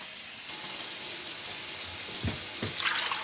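Seven cups of water poured into the pot of a slow cooker for a lamb stew, a steady broadband splashing stream running nearly throughout, fairly close and alone without talk.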